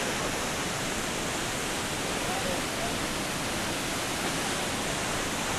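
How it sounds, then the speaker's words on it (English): Steady broadband roar of the Pailon del Diablo waterfall on the Rio Verde in Ecuador, a continuous dense rush of falling water that stays constant and loud throughout, with no voices over it. "There's the waterfall."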